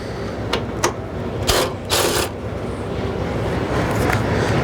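Bolts are removed from the fender of a 2008 Subaru Forester with a power tool, heard as a few short whirring bursts between quieter handling noise, close and fairly loud.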